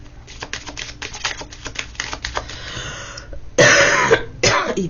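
Rapid clicking taps like typing come first, then one loud, harsh cough and a second shorter cough close to the microphone.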